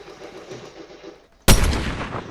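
A loud burst of gunfire erupts suddenly in a shooter video game after a quiet stretch of low background noise, a sharp shot followed by rapid crackling fire.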